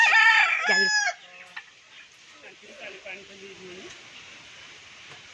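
Chickens cluck and a rooster crows near a village house. A loud burst of crowing and clucking opens the scene, then fainter clucks follow over quiet outdoor background.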